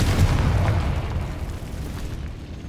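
A Confringo explosive spell blasts in the Hogwarts video game, a loud booming burst at the start that rolls into a rumbling decay over a couple of seconds, heard alone without talk.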